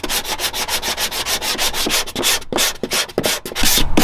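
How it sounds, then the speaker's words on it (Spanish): Sandpaper rubbed by hand over a car engine bay before painting it black, a steady series of quick scraping strokes, fairly close and loud, with no talk. "Un poquito más de lija."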